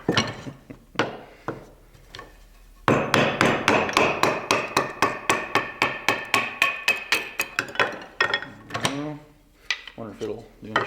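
A D2 steel bushcraft knife carves hardwood feather sticks, producing a rapid series of sharp, rhythmic scraping strokes close up, with a brief pause partway through.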